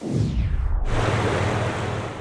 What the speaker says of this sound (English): We're standing at the edge of the Provo River.